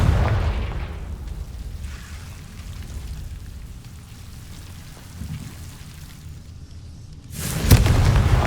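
Magical Confringo blast in Hogwarts Legacy, heavy booming rumble with rain-like crackle throughout, fading in the middle and then flaring again into a loud burst near the end.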